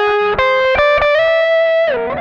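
An electric guitar with the gain turned up and the tone rolled back plays through an Ibanez ADMINI analog delay pedal. Sustained distorted notes slide between pitches, each trailed by warm, smeared echoes, played alone and loud.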